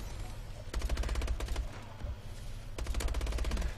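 Automatic gunfire in the game Call of Duty: Advanced Warfare, with two rapid bursts of close, loud shots, a short gap between them, and no speech over the firing.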